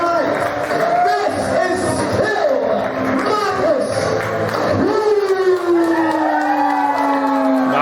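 A live pro wrestling crowd reacts to wrestler Jimmy Fox with sustained jeers and noise under a commentator's steady talk, while a long whistle-like tone rises and falls throughout.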